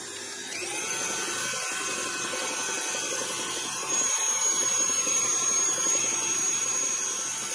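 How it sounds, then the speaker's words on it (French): Electric hand mixer beating cake batter for a pear, walnut and cinnamon autumn cake, a steady high-pitched motor whine that switches on early, holds constant and grows slightly louder partway through. "on va commencer à mélanger notre pâte au batteur pendant 5-10 minutes pour qu'elle soit bien homogénéisée, bien lisse"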